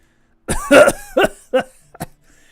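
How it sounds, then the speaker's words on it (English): A burst of harsh, violent coughing, several hacking coughs in quick succession that trail off into smaller ones, close and loud with no talking. "GR28 starts coughing violently"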